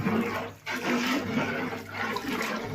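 Water gushes and splashes in two bursts with a short pause between, close and fairly loud, like liquid being poured out.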